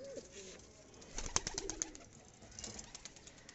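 Racing pigeons cooing softly nearby, with a brief flutter of wings mid-way; quiet and distant-sounding overall.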